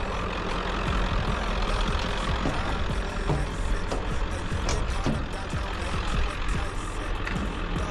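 A 1975 Ford Super Cab pickup fitted with a Powerstroke diesel engine, driving with a loud continuous rumbling engine note and clattering rattles throughout, close by.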